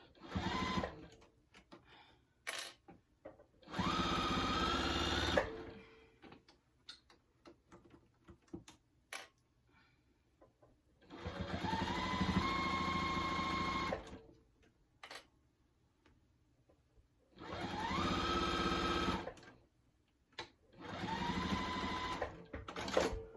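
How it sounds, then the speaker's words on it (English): Sewing machine stitching a seam on an extra-large tote bag with backstitching, sounding in several bursts of rapid mechanical whirring separated by pauses and faint handling noises. "I want to make sure I backstitch because I don't want that coming out."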